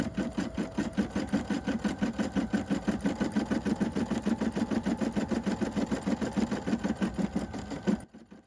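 A Brother PE 550d embroidery machine stitches at close range, its rapid, even mechanical clatter running steadily until it stops abruptly near the end.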